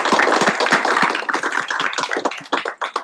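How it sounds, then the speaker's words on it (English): Applause at a senate meeting: a loud, close burst of many hands clapping together, dense at first and thinning slightly toward the end. "Please give him a big round of applause."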